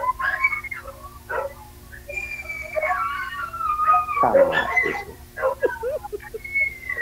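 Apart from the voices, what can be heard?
dogs whining and barking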